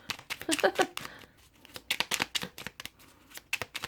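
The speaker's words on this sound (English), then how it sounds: "they're hard to shuffle sometimes." Tarot cards riffled and shuffled in quick, crisp bursts, two clusters of papery flicking separated by a brief pause, close by with no talking.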